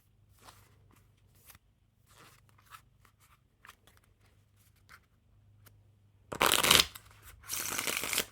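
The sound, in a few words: handling and fanning a deck of Gettin Spicy playing cards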